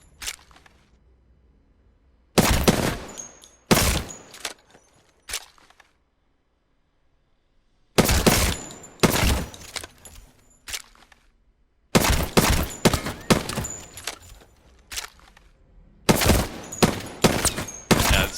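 Rapid hip-fire bursts from a gun in the video game Apex Legends, several loud close volleys separated by short silent pauses, each burst a quick rattling string of shots, no talking.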